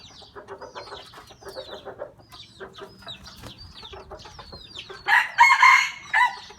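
Crossbred breeding rooster crowing and clucking up close, a series of short clucks and calls followed by a loud, strained crow near the end.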